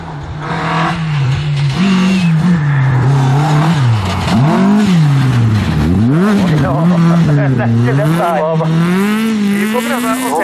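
A Porsche rally car on a snowy winter rally special stage, its engine droning and revving up and down as it approaches and passes close by at speed, with people talking over it.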